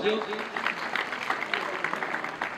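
An audience applauds to welcome a guest at an Independence Day gathering, with a burst of clapping crackling steadily over a few seconds, moderately close, and voices mixed in.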